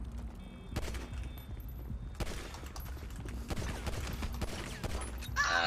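Gunfire in GTA 5 roleplay, several loud broadband shots over a busy game background, with noisy bursts spread through the clip and no speech heard.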